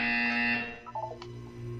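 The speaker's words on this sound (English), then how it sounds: "When you hear the buzzer, look down at the floor." A harsh, steady electronic buzzer sounds in the Portal 2 video game, holding for about half a second before cutting off, followed by faint blips over a low hum.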